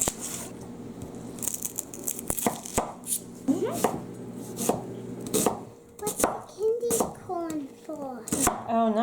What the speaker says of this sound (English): I'm going to take a medium-sized onion. I'm going to slice this, not chop it, just slices